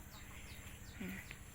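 Chickens on a rural farm in Udon Thani give faint, scattered clucks outdoors under a steady bed of insect and ambient noise.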